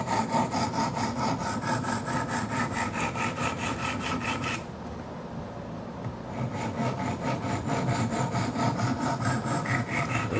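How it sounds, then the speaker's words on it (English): Steady, rapid scraping strokes of 100 grit stones on a Wicked Edge sharpener working a Kershaw Skyline knife edge, close and continuous with a brief softer pause midway. "now I'm on the 100 grit stones. We just finished reprofiling the edge to a 15 degree bevel"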